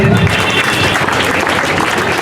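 Loud, dense applause from a school audience at a Teachers' Day celebration, a continuous wash of many clapping hands filling the whole short stretch with a little crowd noise.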